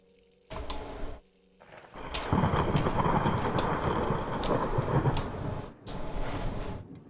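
Water gushes from a tap in the video game Layers of Fear in bursts, starting and stopping a few times, with a longer steady run in the middle, close and fairly loud.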